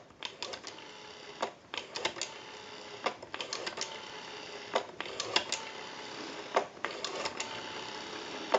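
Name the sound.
rotary dial of a Siemens desk telephone turning and returning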